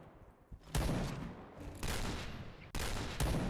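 Gunfire in the shooter video game Point Blank, three loud bursts of shots that each cut in sharply and ring on briefly, with short quieter gaps between them and no talking.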